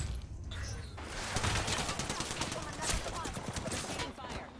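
Apex Legends gunfire crackles in rapid, dense bursts at moderate loudness, mixed with sharp impacts and some faint game voices.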